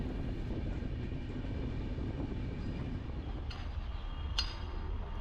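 A continuous low rumble and rattle heard from on board a train running on rails near the Madhya Pradesh and Rajasthan border, with a couple of brief sharp squeals toward the end.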